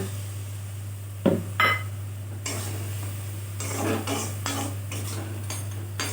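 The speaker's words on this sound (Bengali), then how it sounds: "বন্ধুরা মশলাটা খুব ভালো করে কষিয়ে নিচ্ছি" Spice paste (masala) for a fish-head moong dal fries in a pan while a metal spatula scrapes and clinks against it, first in two sharp strokes, then in a busier run of stirring.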